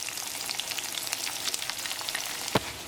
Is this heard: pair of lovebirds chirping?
no